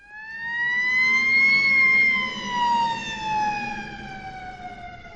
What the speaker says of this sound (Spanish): Por ejemplo, una sirena.